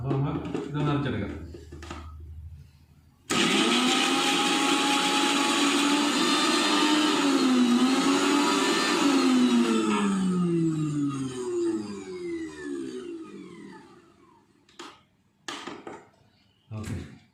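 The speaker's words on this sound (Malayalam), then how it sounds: "അപ്പോൾ നമ്മൾ ഇതൊന്ന് അരച്ചെടുക്കാം" A mixer grinder coarsely crushes shallots, its motor kicking in abruptly and roaring loud and steady for about ten seconds with a shifting whine before winding down. A person talks briefly before and after.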